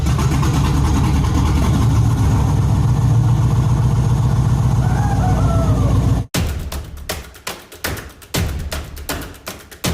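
A 1981 Yamaha SR250 motorcycle engine runs loud and close with a steady throbbing idle, then cuts off abruptly and gives way to scattered knocks and thumps.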